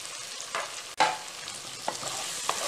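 Large capsicum pieces stir-fry with besan in a pan, giving a continuous close sizzle broken by a few soft knocks and scrapes of a spoon.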